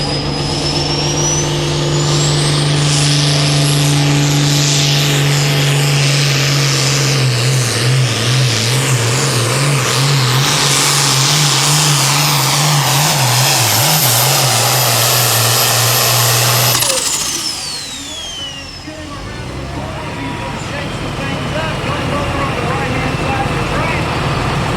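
Farm tractor engine roaring loudly at a tractor pull in Elizabethtown, Kentucky, a sustained throbbing drone that wavers in pitch for about seventeen seconds before cutting back, with a loud announcer's voice over it.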